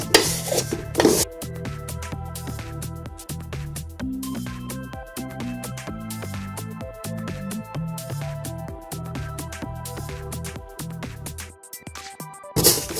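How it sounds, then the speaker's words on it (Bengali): Rice flour being stirred and roasted in a hot pan over low heat, a steady scraping and rubbing of a spoon against the pan in repeated strokes, close and continuous without talk. "আমি চুলায় একটি পাত্র বসিয়ে পাত্রটি গরম করে নিয়েছি এবার আমি চালের গুঁড়াগুলো একটু ঢেলে নিব"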